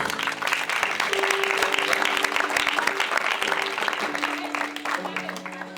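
A church congregation bursts into loud, sustained applause to acclaim the Lord after a healing prayer, with clapping filling the room over held musical tones and a voice speaking underneath.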